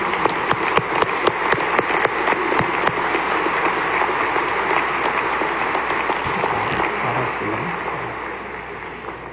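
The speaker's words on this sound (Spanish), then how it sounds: "Un aplauso de felicitación." Worshippers at a Sunday Mass applaud a priest's 45th anniversary of priesthood; a hiss-like sheet of steady clapping fills the church, with a few sharper individual claps standing out early on.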